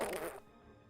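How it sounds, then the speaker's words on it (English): A soundboard fart noise during a Marvel Contest of Champions game session, a short buzzy blast of under half a second that cuts off sharply into quiet. "what blood sacrifice must I commit to get fart noises on the soundboard?"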